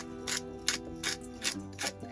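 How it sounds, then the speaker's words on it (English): Trader Joe's Everyday Seasoning grinder cranked by hand, giving about six rhythmic ratcheting bursts of crunchy grinding, close and clear with no talk. "I'm gonna just grind up."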